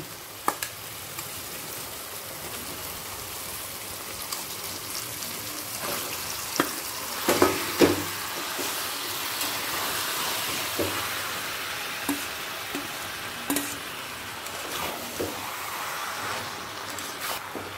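Steady, soft frying sizzle of chicken in a pan with softened tomato and onion, with occasional stirring clicks and scrapes, close and fairly quiet, without speech.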